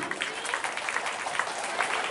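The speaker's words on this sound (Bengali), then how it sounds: "আপনারা সকলের জন্য একটা জোরে হাততালি দিন।" Loud, steady applause from an audience at a Durga Puja cultural program, continuous dense clapping throughout with no talk over it.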